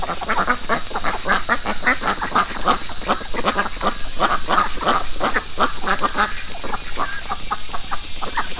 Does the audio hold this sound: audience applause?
no